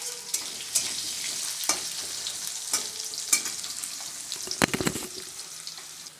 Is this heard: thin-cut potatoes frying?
yes